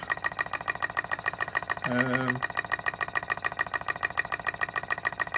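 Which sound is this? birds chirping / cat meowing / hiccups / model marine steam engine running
model marine steam engine running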